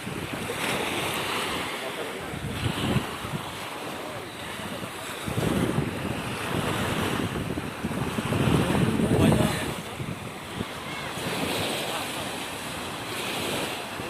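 Waves on Issyk-Kul lake wash continuously against the shore, a steady broadband surge with periodic swells, mixed with wind buffeting the microphone.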